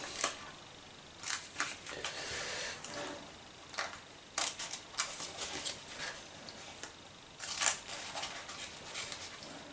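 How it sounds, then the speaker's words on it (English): Cutters snip through material on a front control panel in a series of short, crisp clicks and snaps, irregularly spaced and close, with faint handling noise between cuts. "Just snip through there"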